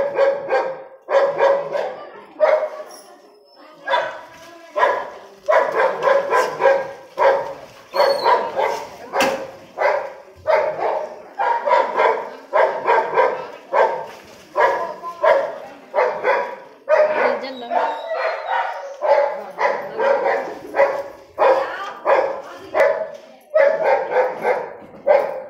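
A dog barks repeatedly in rapid, rhythmic bursts, loud and close, continuing steadily with brief pauses between volleys, during a fight between two bulls.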